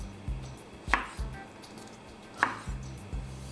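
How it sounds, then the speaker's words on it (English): A knife chops chili on a cutting board in a home kitchen, with two sharp, loud strikes about a second and a half apart over soft background clatter and no talking. "cut up the chili"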